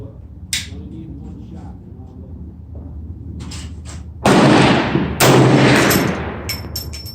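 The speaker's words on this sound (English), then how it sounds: "All right, I'm gonna take the fourth shot at 50." Bear Creek 450 Bushmaster rifle fired at a range: two loud, sharp shots close by, each followed by a long rolling echo, after a quieter stretch of someone talking.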